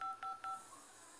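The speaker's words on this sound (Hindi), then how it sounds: "यहाँ पे मेरा देख सकते हैं डायल पैड टोन साउंड जो है टर्न ऑन है" Three short, evenly spaced beeps from the dial pad of a Redmi 9 phone, quiet and close, followed by faint background hiss.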